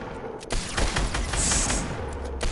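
Fortnite gunfire crackles in a dense burst of rapid shots and booms from a multiplayer match, loud and close.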